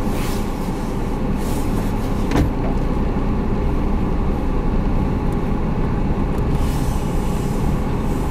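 A car on the drive home gives a steady, loud interior road rumble and engine drone throughout, with a brief thump partway and no talking.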